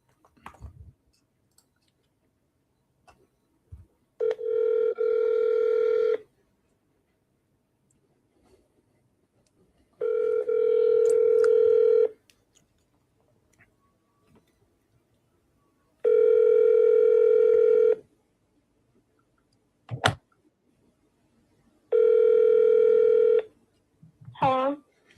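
A telephone call is redialed over the line: four long, even ringing tones repeat at regular intervals, separated by near silence and a few faint clicks and short blips.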